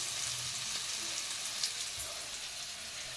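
Potato pieces frying in oil in a pan for a stir-fried potato dish, a steady, soft, continuous sizzle without pauses, heard alone and fairly faint.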